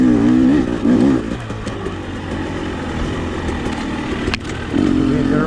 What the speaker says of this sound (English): these new two-strokes are so quiet and zero vibration